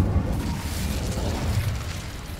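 An Incendio fire spell in Hogwarts Legacy lets out a loud, dense whooshing burst, a continuous rumbling roar of flame that lasts about two seconds.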